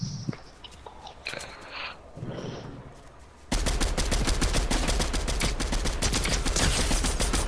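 Gunfire in the video game Fortnite: a few isolated shots over quiet game sounds, then a loud, sustained burst of rapid automatic fire that continues to the end.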